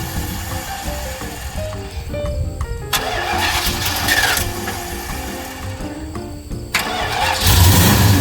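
A Plymouth Road Runner V8 cranks with loud rasping starter bursts and then catches, its engine settling into a steady mid-pitched idle that swells near the end, close and with no talking.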